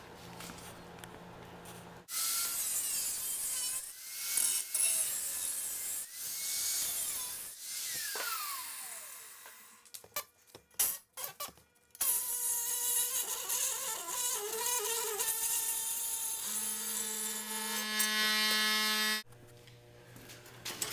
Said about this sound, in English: I'm going to take this over to my saw and I'm going to trim it off